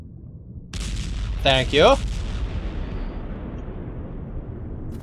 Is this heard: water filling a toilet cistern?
no